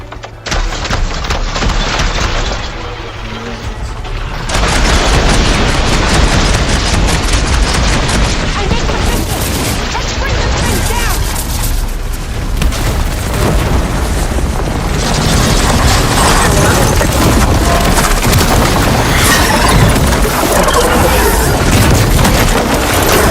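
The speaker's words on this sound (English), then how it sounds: "do not be fighting through shots from that ballista" Ballista shots and explosions in Horizon Forbidden West produce a dense, loud, continuous roar of booms and impacts that swells after a few seconds and barely lets up, with voices partly buried in the din.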